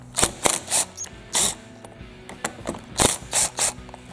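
Quick clicking ratchet bursts loosening screws on the curved shaft of a Stihl string trimmer, a string of short metallic ratcheting strokes in irregular clusters, close up with no talk.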